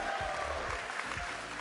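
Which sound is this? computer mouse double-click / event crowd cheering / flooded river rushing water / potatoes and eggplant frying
event crowd cheering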